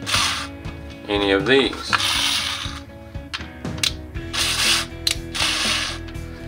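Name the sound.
screw gun tightening holster retention screws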